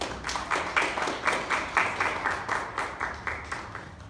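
A church congregation claps in praise, a steady dense burst of applause with rhythmic surges, fairly close and filling the room, no voices over it.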